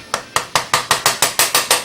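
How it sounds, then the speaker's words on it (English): Nine evenly spaced taps from a soft hammer on a 1970 Oldsmobile Quadrajet carburetor part ring out in quick succession, each a short sharp knock that fades fast, close and fairly loud. "So this is where my soft hammer comes in."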